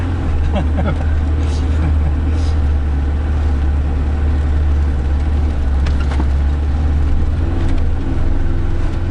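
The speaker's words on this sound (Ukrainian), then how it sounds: "Але нива, нива, люди. Це є машина." A Lada Niva car driving, its steady low engine rumble droning close and constant throughout, with people talking over it.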